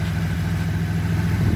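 A Nissan 370Z engine idling steadily in a garage with the bonnet open, a smooth, even low hum that holds constant without revving.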